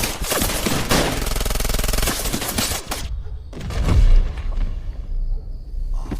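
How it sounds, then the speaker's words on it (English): A gang looses a dense volley of bullets, loud rapid gunfire for about three seconds, then a sudden cutoff, a heavy thud and scattered lower rumbles. "Spider's group then showered bullets on Kowalt until Kowalt died."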